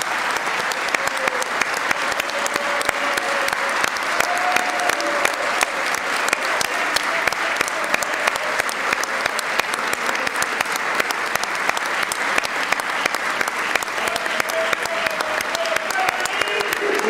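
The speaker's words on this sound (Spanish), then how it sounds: "para quienes pedimos un aplauso de pie de todo el hemiciclo" Sustained standing ovation filling the Chilean Chamber of Deputies for the national rugby team, a steady dense wash of many hands clapping at even loudness throughout, with faint scattered voices beneath.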